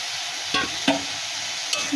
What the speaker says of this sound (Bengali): দিয়ে আবারও নাড়াতে থাকবো